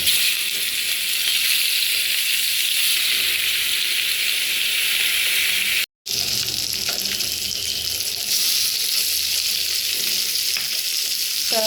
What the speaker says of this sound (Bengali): এখন শুধু মাছ ভাজবো